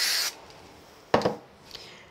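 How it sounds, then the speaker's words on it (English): A brief hissing spray is applied to the back of a paper piece in a craft project. It opens the clip at close range, followed by quieter rustling and a sharper handling rub. "give it another quick spray on the back."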